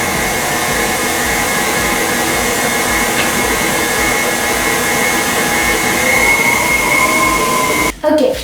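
An electric mixer whirs loudly and steadily in a bowl of chiffon cake batter, a continuous motor drone with a faint tonal whine, cutting off briefly near the end before resuming.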